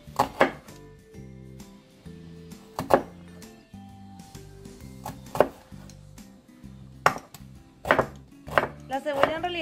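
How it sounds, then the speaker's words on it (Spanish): A knife chops onion on a board in bursts of sharp, close, rhythmic thuds, with several groups of quick cuts and short pauses between them. "Mi esposo ya está cortando la cebolla."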